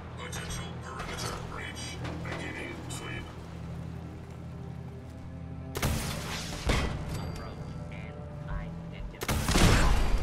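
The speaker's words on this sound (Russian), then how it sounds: "Меня достало взрывом." Fallout 4 gameplay with a pair of sharp explosion bursts breaking through steady mechanical game noise and a low hum, the first mid-clip and the second near the end.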